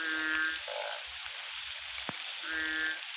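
Narrow-mouthed frogs croak near a flowing stream, with a couple of pulsing calls at the start and end set against a soft background hiss and faint water sounds.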